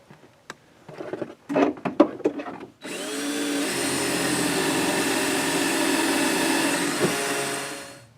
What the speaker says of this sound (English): Alright, first step is to drill 1/8 pilot hole right behind the brake pedal.